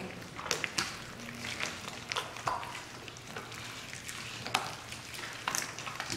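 Slime being mixed with borax directly on a tabletop, soft wet squelching and sticky tapping sounds repeating in an irregular rhythm, close and quiet with no talking.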